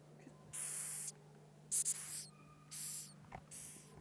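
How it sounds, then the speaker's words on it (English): Four loud bursts of hissing, each lasting about half a second, separated by short pauses over a quiet background hum. "it'll make this loud hissing noise"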